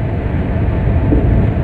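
Inside a sleeper coach of the Prasanti Express hauled by a WAP-4 locomotive, a loud, steady rumble of the running train with dense low-frequency roar and no voices.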